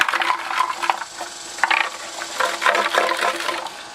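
Pumps being sloshed around in liquid to break loose hard flakes after sitting for months, a series of irregular watery splashes and clatters, close and moderately loud, with no talking.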